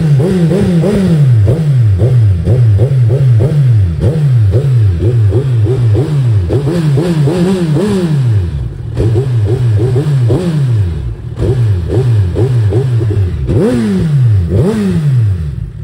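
A BMW S1000RR motorcycle engine is revved hard again and again, each burst rising and dropping in quick succession, loud and close, with a few brief pauses between runs of throttle blips.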